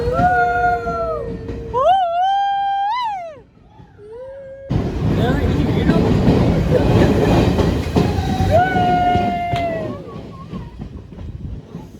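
Wavering high whines and squeals give way to a loud, steady roaring rumble of a train moving through an enclosed tunnel in the hills on the Kollam to Sengottai line.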